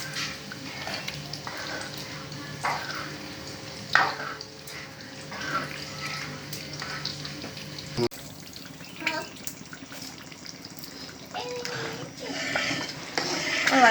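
Chicken tomato stew frying in a pot gives a steady, low sizzle and bubbling wash, with a few sharp knocks from stirring scattered throughout.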